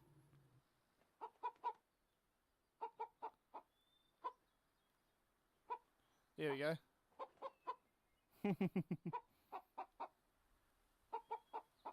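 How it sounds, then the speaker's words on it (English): A hen in a VRChat world clucks in short, repeated bursts with a couple of longer squawks, fairly quiet, while a person speaks briefly. "Here's another hen."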